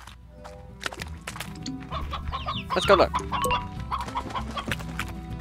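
Hen clucking in the farming game Slime Rancher, a series of short clucks with game effects, while a player speaks briefly.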